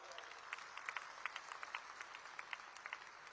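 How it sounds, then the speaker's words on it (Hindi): A crowd at a convocation ceremony applauds the girl cadets, a steady patter of many hands clapping heard faintly from a distance, with no clear speech. "मैं सभी को कहता हूं, बच्चियों के लिए एक बार जोर से ताली बजाओ जरा"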